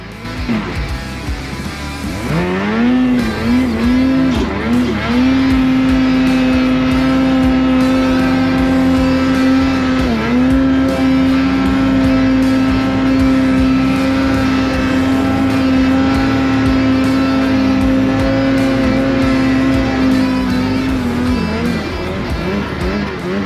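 A snowmobile engine revs loud and close in deep snow, rising to a steady high drone held for many seconds with a brief dip midway, then falling away near the end.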